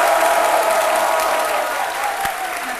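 A television studio audience on an RTI 1 show claps steadily throughout, dense and sustained applause from a sizable crowd, with no voices standing out.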